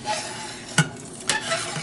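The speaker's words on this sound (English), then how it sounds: "So we're going to add our cup of grits to the boiling water. We're going to stir it," A cup of grits is stirred into a pot of boiling water for shrimp and grits, with a spoon scraping and clinking twice against the pot over a steady bubbling sizzle.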